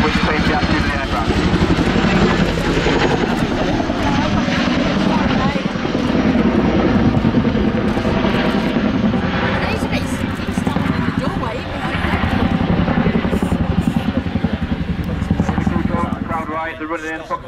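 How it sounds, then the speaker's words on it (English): A Boeing-Vertol CH-47 Chinook tandem-rotor helicopter flies and maneuvers, giving a loud, continuous engine roar and rotor thrum for the whole stretch. Someone narrates steadily over the noise. "they'll stop the aircraft to a hover in the area about the size of a football field"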